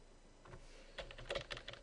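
Computer keyboard keys pressed for a Photoshop shortcut, a few soft, close clicks spread unevenly across the moment, with no talking.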